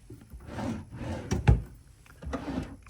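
A hotel room drawer at the Hyatt Regency in downtown Dallas slides open and shut, several wooden rubbing strokes with one sharp knock midway, close and fairly quiet.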